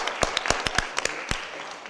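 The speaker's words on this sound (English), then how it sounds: "Let's give them one more big round of applause as they change." Brief scattered hand claps at a board of aldermen meeting, a handful of sharp distinct claps at uneven intervals, fairly close and fading after a couple of seconds.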